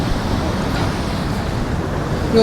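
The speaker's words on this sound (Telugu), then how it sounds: "ఈడ చిన్న వాటర్ ఫాల్ అట్లా వస్తుంది" Steady rushing water roars continuously, a broad even splash like a small waterfall, fairly loud and unbroken throughout.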